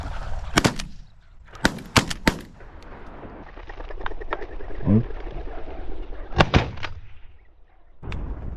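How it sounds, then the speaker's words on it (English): Shotguns fire at flushed birds in a Hells Canyon hunt: several loud, sharp gunshots come in scattered bursts, some close together. Wingbeats and bird sounds mix in, and hunters talk between the shots. "Did you shoot that one too? I shot that one."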